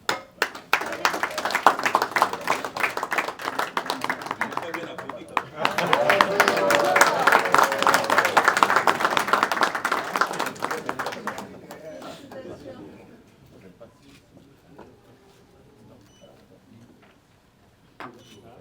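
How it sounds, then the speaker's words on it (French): Graduation audience claps for each named graduate, bursts of applause rising and falling in two loud waves before fading to scattered claps, with a voice speaking over parts of it. "on va applaudir Mujinga Sambomba Terry"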